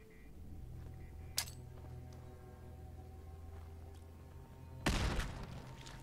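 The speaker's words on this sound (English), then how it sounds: "Triggered more explosions." Explosions in the video game Fallout 4 VR: a sharp blast early on, then a second, heavier burst near the end, over a steady low rumble of game ambience.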